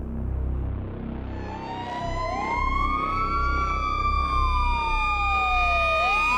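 An ambulance siren wails loudly as the vehicle races past, its tone sliding and dropping in pitch as it goes by, over steady road rumble and with no voices.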